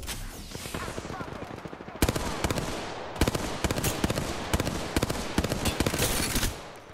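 Rapid bursts of automatic gunfire in an Apex Legends gunfight, loud and close. Dense rattling volleys give way to choppy repeated shots, with voices talking over the fighting.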